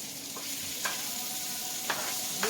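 Vegetables sautéing in a pan until crispy beside a steak dinner being prepared, a soft steady sizzle punctuated by three quick utensil scrapes, fairly quiet and without speech.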